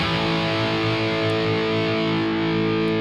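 Electric guitar pushed through a clone overdrive pedal in front of the amp, giving a thick saturated tone held as one continuous sustained chord, loud and close without speech.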